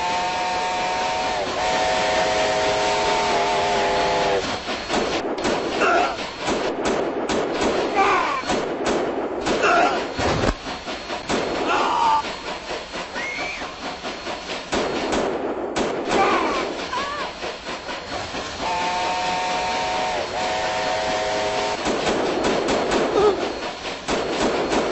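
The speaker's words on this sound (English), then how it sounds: "Bloody Mad Dog! He's robbing the train!" A video game scene from Mad Dog McCree II: The Lost Gold, with a steam whistle, rumbling train noise and heavy thuds during a train robbery, with music and effects layered throughout.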